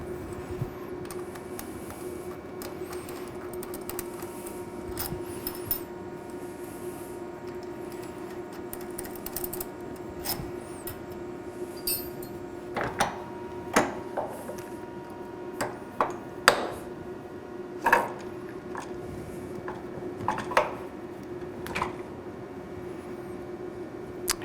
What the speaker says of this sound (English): let's flip it over and remove these 3/16 screws so we can disassemble the box.